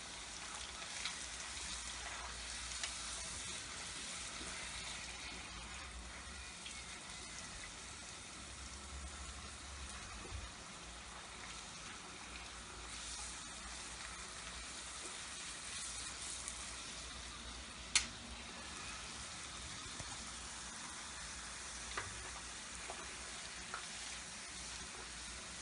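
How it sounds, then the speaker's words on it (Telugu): Pani puris frying in hot oil, a steady broadband sizzle running unbroken throughout with a faint stir or bump now and then. "ఒకేసారి వేసుకోకుండా ఒక 4 వేసి ఫ్రై చేసుకుందాం."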